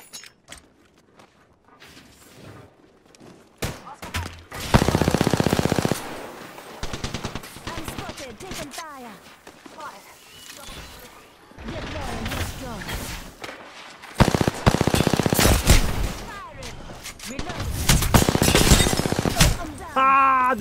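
Video game gunfire with dense bursts of automatic fire and scattered single shots, loud and close, with a voice talking over it at times.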